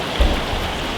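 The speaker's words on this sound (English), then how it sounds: "Now with the beautiful pounding of that rain" Heavy rain pounds steadily outside, a dense continuous hiss of drops on surfaces with a brief low thump near the start and no voices.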